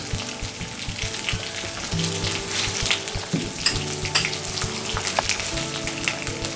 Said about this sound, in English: Next, we are going to add dry masala, that is some turmeric powder